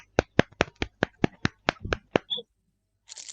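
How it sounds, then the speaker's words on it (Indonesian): A classroom of students claps for a pupil, about ten sharp, evenly spaced claps in quick succession, close and loud, ending with a brief high squeak and a little background noise. "Kasih tepuk tangan dulu untuk Nisa."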